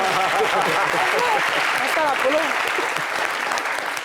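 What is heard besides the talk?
audience applause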